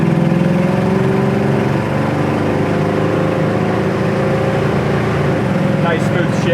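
Engine of a 1971 Ford Mustang Mach 1 pulls steadily while driving, a continuous loud low drone with a brief dip near two seconds as a manual gear change goes through, heard from inside the car.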